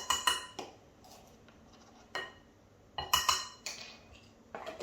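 A metal spoon clinks sharply against a bowl while baking powder goes into a spiced peppernut dough, several close bright taps in uneven clusters with quiet pauses, no talking.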